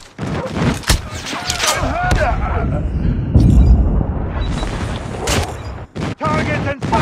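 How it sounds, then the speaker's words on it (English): Airstrike explosions and gunfire in Call of Duty Mobile: heavy booms and thuds mixed with bursts of shots, loud and chaotic, with game voice callouts sounding over the action. "Enemy airstrike incoming"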